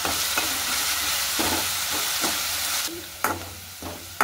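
Chopped onion frying and sizzling in a hot pan while being browned for pav bhaji, a steady loud hiss with occasional sharper stirring scrapes toward the end.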